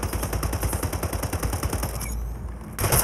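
Automatic gunfire in the first-person shooter SplitGate during a free-for-all match, a rapid steady stream of shots that cuts out briefly before resuming, loud and close.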